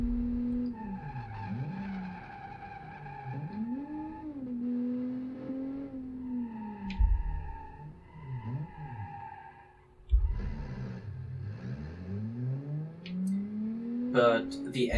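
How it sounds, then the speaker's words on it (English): A luxury car with a muscle car engine in the BeamNG driving game revs repeatedly, its tone sweeping up and down through gear changes, with tyre squeal and scrapes between the pulls and a voice talking over it. "the engine still sounds like a muscle car engine"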